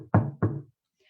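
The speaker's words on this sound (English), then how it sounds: "He pounded on the front door." Someone pounds twice on a front door, two heavy, close knocks in quick succession followed by near silence.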